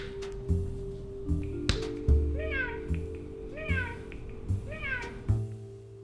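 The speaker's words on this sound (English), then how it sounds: "Meow." Repeated short meows, about three rising calls spaced a second or so apart, with soft taps and electronic tones underneath.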